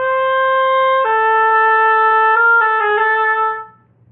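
A solo oboe plays measure 19 of the 2018-19 All-State etude, close and full-toned, holding one note before stepping down and moving through quick neighboring notes, then stopping, with no voices.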